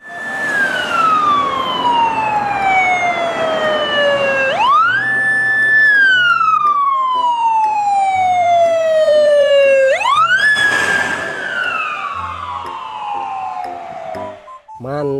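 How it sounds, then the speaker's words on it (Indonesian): A loud toy ambulance siren wails in long, slow falling sweeps that jump back up and repeat, close and continuous over the whole stretch. "Di sini ada mobil ambulan."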